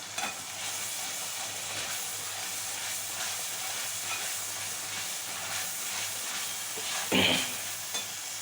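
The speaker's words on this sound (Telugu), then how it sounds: "అల్లం వెల్లుల్లి పేస్ట్ పచ్చి వాసన పోయే వరకు ఫ్రై చేసుకోవాలి" Ginger garlic paste hissing and sizzling steadily in hot oil in a pan, a continuous close frying sound with occasional stirring scrapes and one brief louder sputter near the end; no talking.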